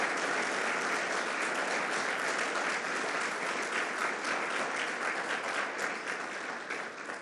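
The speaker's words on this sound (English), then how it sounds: "Let's give him a round of applause, Senator Bonacic." An audience at the grand opening of a casino and resort claps steadily in a dense, continuous round of applause that fades slightly toward the end.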